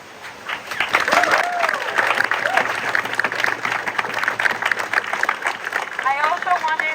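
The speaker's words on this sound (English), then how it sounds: "I wanted to give this team an applause." A crowd at an outdoor solidarity rally in Santa Cruz breaks into steady applause, with dense clapping and scattered cheers and voices mixed in throughout.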